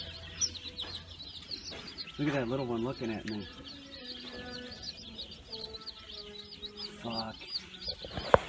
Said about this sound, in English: Look, that's a bantam chicken.